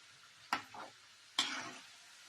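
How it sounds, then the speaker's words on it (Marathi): Shankarpali deep frying in oil while being stirred, two sharp scraping stirs against a faint low bubbling. "एकसारखं जर आपण असं हलवत राहिलं त्यांना तर मग ते सगळे सारखे तळले जातात"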